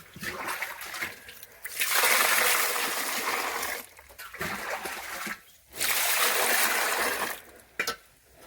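Water poured for a buffalo to drink on a Punjab village farm, long splashing gushes into a container in several bursts separated by short pauses, loud and close.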